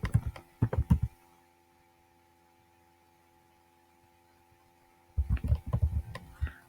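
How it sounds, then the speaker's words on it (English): Bursts of keyboard typing, a flurry of clicks at the start and another near the end, separated by several seconds of quiet room hum; close and fairly soft, no talking. "type in your students, or student type in your teacher's email address or last name"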